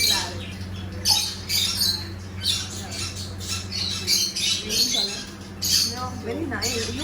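Pet birds kept in cages, macaws among them, squawk in harsh, repeated bursts over steady background hum, with people talking nearby throughout.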